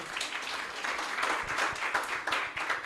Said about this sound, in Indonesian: Kita beri aplaus kepada ketiga narasumber.